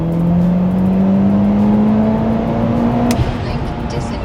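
An Evo X or Porsche 911 accelerates hard in third gear. The engine drone climbs steadily in pitch for about three seconds, then backs off as the throttle lifts. Speech is faint or absent.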